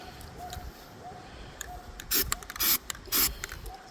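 Rust is scraped off a part of a Frigidaire refrigerator that is not cooling, heard as three short, raspy scraping strokes over a quiet background hum.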